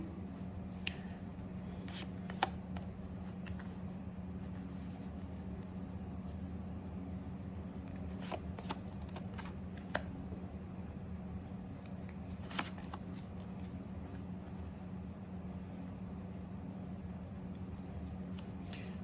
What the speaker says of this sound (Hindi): ईच 10 डेज की मैं 2 कार्ड पुल करूंगी।